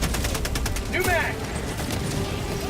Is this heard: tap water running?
no